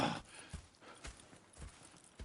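In Red Dead Redemption 2, horse hooves clip-clop in a steady, faint walking rhythm, each soft strike spaced about half a second apart.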